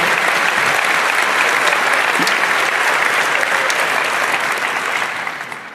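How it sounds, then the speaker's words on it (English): An audience at a conference talk on the internet in Cuba breaks into loud, dense, sustained applause that holds steady, then fades away at the end. "Please give a big round of applause"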